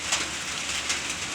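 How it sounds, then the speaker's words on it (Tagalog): Heavy rain hisses steadily on surfaces, a dense, continuous wash heard up close with faint bird calls behind it. "lakas na ng ulan"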